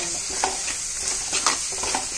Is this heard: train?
no